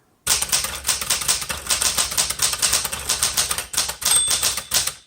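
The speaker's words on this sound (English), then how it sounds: "There's your bell." A 1972 Smith Corona Classic 12 manual typewriter clatters with fast, steady keystrokes close up, and a bright margin bell rings once near the end of the typing run.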